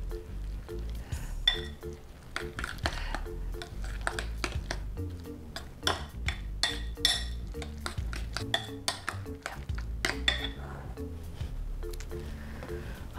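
A spoon mixes cheese bread topping in a bowl, steady scraping and clinking strokes in an uneven rhythm, close and fairly quiet, with no talking.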